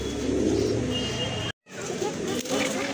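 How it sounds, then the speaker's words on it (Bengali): A pair of Koka pigeons cooing, low soft repeated coos close by, with a brief dropout in the middle and a voice talking over them. "খুবই সুন্দর এক জোড়া কোকা কবুতর"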